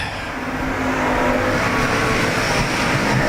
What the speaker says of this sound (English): He's caught the 82 machine of Steve Sadowski as Kevin Parker coming to the white flag